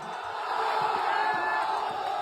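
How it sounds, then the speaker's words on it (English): Large crowd roaring and cheering with whoops and yells, a steady dense wall of noise that holds loud and continuous throughout. "You know you've done something crazy when the crowd reacts like this."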